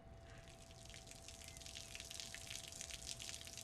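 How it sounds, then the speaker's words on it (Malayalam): Water gushing and splashing steadily as it overflows a full household tank while the pump motor keeps running, a constant broadband rush with a faint steady hum beneath, no voices. "ദേ അമ്മേ, ടാങ്ക് നിറഞ്ഞ് വെള്ളം വീഴുന്നു."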